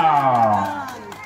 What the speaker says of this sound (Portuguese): Palmas pra Regina!